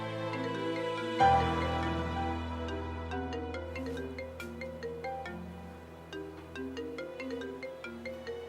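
A telephone ringtone plays as a steady, sustained melodic tone in a drama scene, continuing throughout at moderate loudness with no talking.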